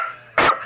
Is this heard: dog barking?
yes